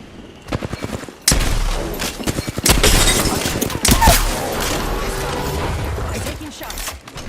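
Gunfire erupts in the Apex Legends video game, a rapid burst of sharp shots followed by louder sustained firing and impacts, close and intense, with some talking in the mix.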